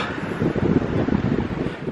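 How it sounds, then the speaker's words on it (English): Steady wind buffeting a microphone on the beach at Topsail Island, North Carolina, a broad rushing roar with gusty fluctuations, loud and close, no one speaking. "A little windy today"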